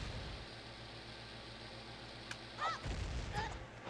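Bombs explode in The Legend of Zelda: Ocarina of Time, a few dull game booms and blasts bursting near the end over a steady hiss of background noise.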